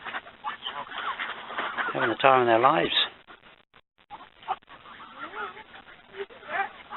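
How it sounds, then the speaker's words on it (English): Canada geese honk in a short burst of loud, rising calls outdoors by a lake in the Lake District, with someone talking over and around them. "geese from Canada"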